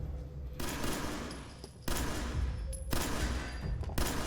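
Sustained bursts of gunfire in Fallout 4, a heavily modded playthrough, loud and near, with dense rapid shots in several long volleys separated by brief pauses.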